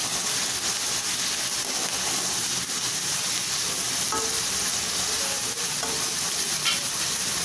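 Vegetables for fried rice stir-fried over high heat, a loud continuous sizzle close by, with occasional scrapes and clinks of stirring, no voices.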